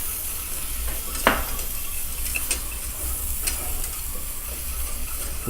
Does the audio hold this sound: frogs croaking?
no